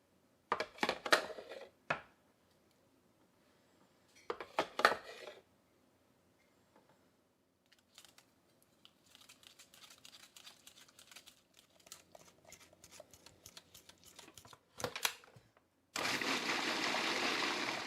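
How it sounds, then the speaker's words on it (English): Cranberry sauce is pushed through a strainer into a pan, with quiet scraping, dripping and wet rustling, a few sharper clatters of the utensil, and a steady louder rush near the end. "So when I add this back to the pan, I'm just going to strain it through this strainer to remove that."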